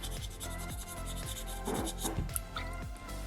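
Sandpaper rubbing over a small soapstone fox carving in steady back-and-forth strokes, a close, dry rasping scrape with a few louder gritty passes midway.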